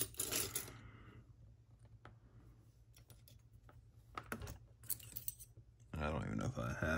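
Light metallic clinks and rattles of Allen wrenches being rummaged through, sparse and quiet over a low steady hum, with a voice near the end.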